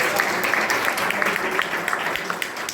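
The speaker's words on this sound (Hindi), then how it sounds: "एक जोरदार ताली हमारे कुलपति प्रोफेसर विनय पाठक जी के लिए" Applause at a camp event honoring a university vice-chancellor, a crowd clapping steadily with a dense, even patter of hands at moderate volume.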